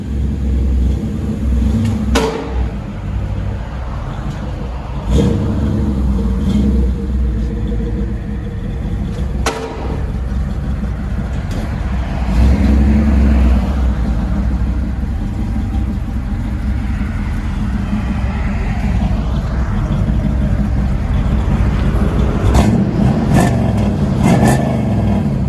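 A 1990 Chevy Camaro IROC-Z with a 5.7L V8 and dual Flowmaster Super 44 exhaust rumbles steadily at idle, broken by several sharp revs throughout, close and loud with no talking.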